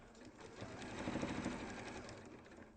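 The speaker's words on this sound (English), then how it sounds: "I'm going to sew up to the corner, almost up to the corner" An electric sewing machine runs steadily as it stitches fabric up to a corner, a close, even mechanical whir lasting the whole time without pauses.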